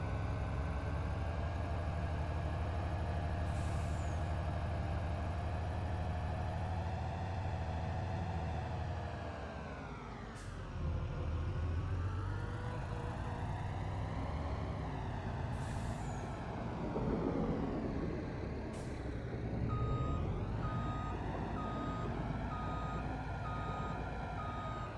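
A truck in Farming Simulator 25 idles with a steady engine drone while reversing beeps repeat and several sharp air-brake hisses burst out, all close and continuous without talk.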